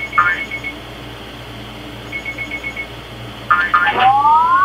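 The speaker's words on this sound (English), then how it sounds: "Oh, my timer's going." A timer alarm going off with short bursts of rapid electronic beeping, one burst early, a second in the middle and a louder one near the end, over quiet room background.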